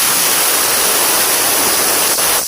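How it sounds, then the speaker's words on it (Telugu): A pressure cooker cooking rice pongal vents in a loud, steady, close hiss of escaping steam that cuts off abruptly at the end. "మూడు విజిల్స్ వచ్చేసాయండి"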